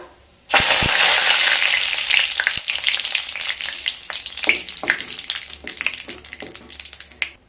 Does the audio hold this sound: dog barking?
no